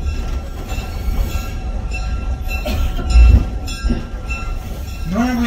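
A narrow gauge train runs with a steady low rumble and rhythmic wheel clatter on the Pine Creek Railroad in Wall, NJ, ending in rising wheel squeals, close and loud.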